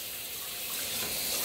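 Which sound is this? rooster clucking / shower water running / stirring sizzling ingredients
shower water running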